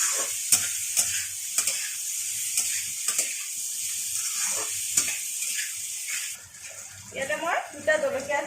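Potatoes frying with onions and garlic in a pan, with a spatula scraping and stirring in repeated sharp strokes over a continuous sizzle, heard close. Near the end the scraping gives way to busier clatter and bubbling.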